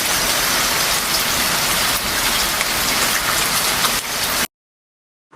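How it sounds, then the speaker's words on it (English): Steady heavy rain pours down in a dense, unbroken hiss for several seconds, then stops abruptly into silence. "it's such a rainy day today"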